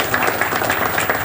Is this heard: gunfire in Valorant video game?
no